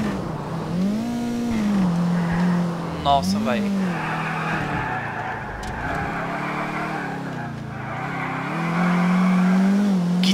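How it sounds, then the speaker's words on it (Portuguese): A 2008 Infiniti G37 Coupe Carbon Edition, front-wheel drive in a modded GTA IV race map, drives with a steady engine drone and tire squeal that rises and falls across the run, while someone talks over it. "Mais outro carro com tração dianteira aqui."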